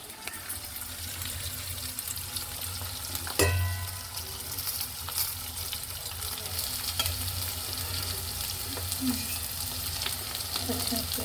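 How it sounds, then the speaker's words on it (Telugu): Garlic and green chilies frying in oil with tamarind leaves, a steady, loud, continuous sizzle with faint stirring and clinks throughout, close up and without clear talk. "ఈ వెల్లుల్లి పచ్చిమిరపకాయలు ఇవన్నీ బాగా వేగిన తర్వాత"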